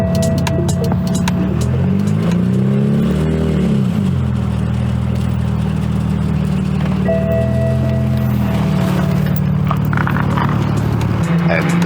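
Engine of a broken BMW 135i running loud and rough, with rising and falling revs and clattering under steady noise.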